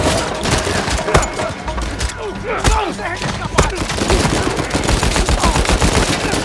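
Uncharted 4 gameplay gunfire: dense, loud automatic bursts and sharp single shots with thuds and booms, crackling continuously over game background noise.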